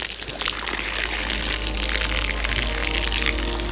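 A strong jet of water gushes steadily from a refill tap at Iguazú Falls in Misiones, Argentina, a loud continuous splashing rush lasting throughout with no break.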